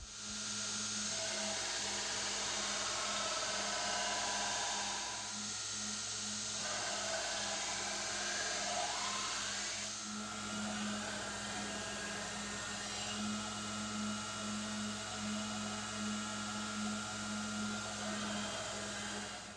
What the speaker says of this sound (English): if I can grind these bevels without damaging the flats